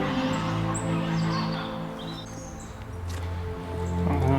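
Several geese call and honk with gobbling, overlapping cries, fairly near, over a low steady background hum.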